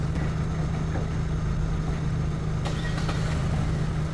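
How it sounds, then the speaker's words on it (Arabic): An Opel or Chevrolet Cruze engine idles steadily after a remote start, a low continuous rumble with a few faint clicks partway through, no voices. "وعلى اطول ما يجيب الريموت بتاعك عربيتك هتدور"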